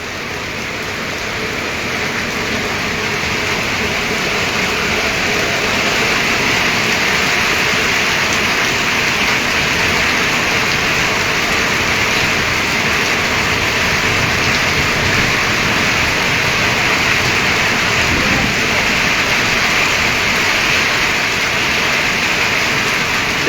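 Heavy rain from a violent storm in Patepur pours down in a dense, unbroken roar that stays loud and steady throughout, with no clear thunderclaps standing out.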